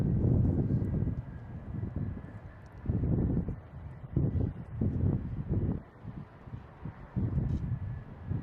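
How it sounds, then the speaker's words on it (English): Executive jet arriving from Dulles to land at Boston Logan airport, a steady distant engine roar swelling and fading in wind-buffeted gusts. "Next coming in, we have an exec jet."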